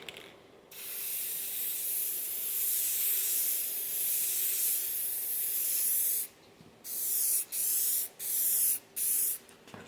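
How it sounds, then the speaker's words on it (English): Spray paint from a rattle can floods onto a wood finish in one long, close, hissing burst, then several short sprays with brief gaps between them. "Now, this is not how you actually want to do a rattle can finish."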